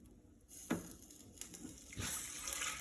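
Chai custard mixture for a frozen dessert is poured from a container back into a pan, giving a soft liquid pour with a couple of splashy bursts before a steadier trickling flow.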